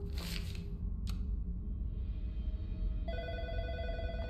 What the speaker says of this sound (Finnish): Sitten vastataan puhelimeen.